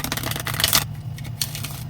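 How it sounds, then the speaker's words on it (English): A deck of Isis Oracle cards is shuffled by hand: a quick, crisp riffle of flicking cards close to the mic, then a few softer taps and shuffles. "Let me give it a quick shuffle"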